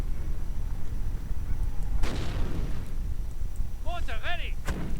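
A German 8cm Granatenwerfer mortar fires in a World War II strategy game, with a couple of booming reports amid battle noise and a short honking, bird-like call in between.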